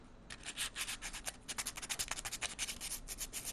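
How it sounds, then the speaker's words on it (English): Sandpaper rubs back and forth, sanding off a clear finish, in quick, steady strokes, close and fairly soft, with no talking. "It's first sanding off the clear finish"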